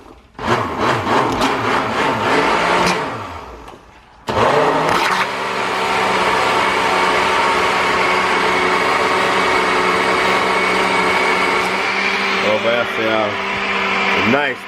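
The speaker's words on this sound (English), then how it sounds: "I cream the sugar, the butter and the egg in a blender" An electric mixer whirs loudly and steadily while creaming sugar, butter and egg for a Jamaican black fruit rum cake, its motor droning close for most of the stretch, with a voice talking over the start.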